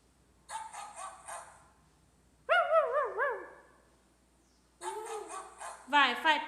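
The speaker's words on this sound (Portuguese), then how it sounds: "E agora, que bicho é esse? Cachorro." Dog sounds from a children's animal-sounds learning activity, heard as a few short clustered yelps and whimper-like tones in separate bursts, with a voice speaking between them.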